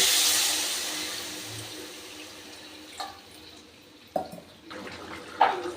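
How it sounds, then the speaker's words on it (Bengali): Water poured into a pot of fish curry with potatoes gives a brief splashing rush at the start that fades away, followed by a few soft clinks and knocks in a quiet kitchen. "এবার আমি দিয়ে দিচ্ছি পরিমাণ মতো জল"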